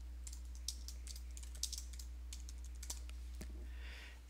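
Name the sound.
typing a submission title on a computer keyboard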